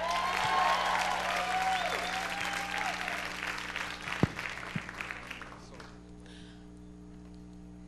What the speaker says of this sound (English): a round of applause for Ollie and Julie